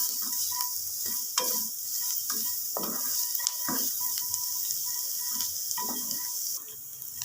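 Carrots and onions frying in a pan for vegetable noodles, with a soft constant sizzle and intermittent clattering stirs, close and moderately quiet, no talking.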